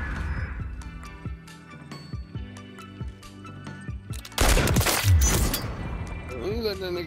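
Hand cannon pistol in Modern Warfare 3 fires a string of sharp, cracking shots at an irregular pace, then a louder, denser burst of gunfire and impact noise takes over near the end, with game music underneath.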